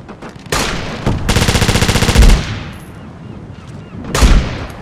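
Artillery fire mission in Operation Flashpoint: Dragon Rising: loud rolling volleys of explosions and rapid rattling bursts, a dense barrage that swells, dies back, then erupts again near the end.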